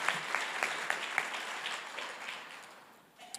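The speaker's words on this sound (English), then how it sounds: "Can we give Arthur a round of applause?" Audience at an electric cooperative's annual meeting breaking into applause, a dense spread of clapping from many hands that swells briefly and then fades out over a few seconds.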